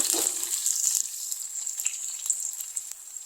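Torn kaffir lime leaves stir-fried in a pan until wilted, crackling and sizzling steadily at close range, with a louder burst at the start that settles into a fainter hiss.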